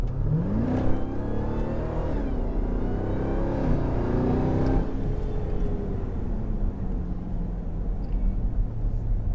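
A 2018 Jeep Trackhawk SUV accelerates hard, its engine note sweeping up through successive gears in rising, rumbling pulls, loud and close from inside the vehicle, then easing into a steadier cruise hum.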